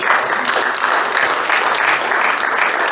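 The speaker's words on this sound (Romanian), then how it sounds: "Aplaudăm mai cu inimă" Audience at an awards ceremony for a regional personalities contest gives sustained, dense applause, a steady wash of many hands clapping close and loud throughout with no break.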